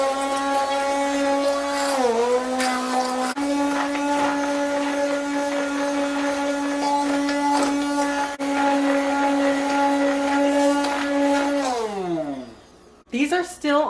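A kitchen blender whirs loudly and steadily while blending tostada ingredients, its motor pitch dipping briefly, then winding down near the end before a short restart.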